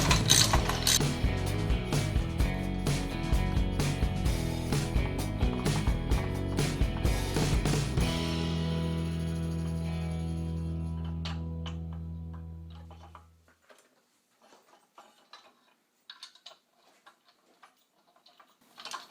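A ratchet clicks rapidly and repeatedly, close and loud, tightening bolts on LED grille light mounting brackets, then a steady hum carries on before it cuts out into near silence broken by faint scattered ticks.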